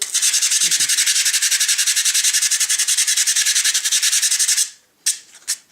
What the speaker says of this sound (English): I'm just putting in with the sandpaper